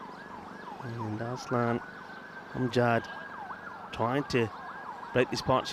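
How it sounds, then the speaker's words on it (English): Emergency vehicle sirens wailing in the distance during a T20 international cricket match between Malta and Estonia, a continuous rising and falling tone that stays under a commentator's talk throughout. "You can hear the sirens in the background."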